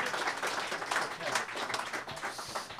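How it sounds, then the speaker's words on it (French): Audience applause at a live Christmas show in a venue, a steady wash of clapping from a crowd that holds evenly for a few seconds without a break. "Encore une fois, une bonne main d'applaudissements, s'il vous plaît."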